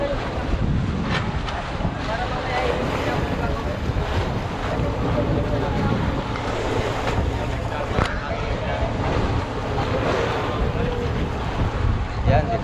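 Sea waves wash and churn steadily around a moving fishing boat, mixed with constant wind buffeting the microphone and indistinct voices.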